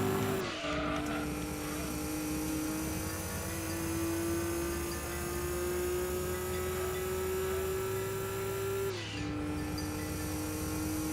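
A Nissan Skyline R34 races in Gran Turismo 2, its engine holding a steady high drone that climbs through a long gear, drops sharply at a shift, then climbs again, loud and close with no voices.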